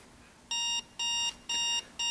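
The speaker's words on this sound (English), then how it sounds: "the alarm just turned on" A Scooby-Doo alarm clock under repair goes off with four evenly spaced, bright electronic beeps, each about a quarter second long, clear and close against a quiet background.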